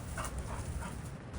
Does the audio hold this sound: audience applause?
no